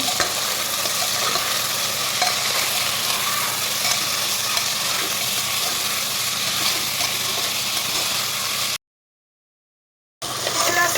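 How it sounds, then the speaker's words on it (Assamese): Onions fry in a pan with a steady, close hissing sizzle that breaks off in a short silent gap near the end and then resumes. "পিঁয়াজ অকণমান ফ্ৰাই"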